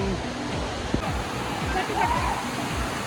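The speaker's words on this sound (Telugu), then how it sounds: "జలపాతం" A waterfall reached by steps near a bridge roars as a broad, steady rush of water throughout, close and fairly loud, with a voice speaking briefly over it.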